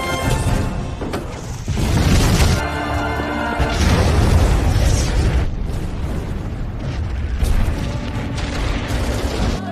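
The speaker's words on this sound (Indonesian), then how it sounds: "Jembatan harus tetap diledakkan." A bridge is blown up in a huge explosion, a loud rumbling boom followed by sustained crashing and debris noise with repeated bursts over several seconds.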